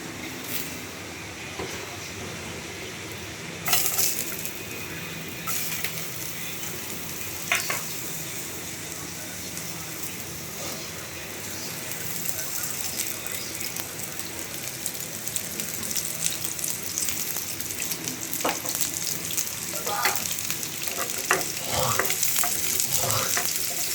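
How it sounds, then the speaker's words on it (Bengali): Bitter gourd fries in a pan with a steady, moderate sizzle, broken by occasional clinks and scrapes of a utensil and a hint of running water, with no talking. "এখন করলা ভাজি বসাবো।"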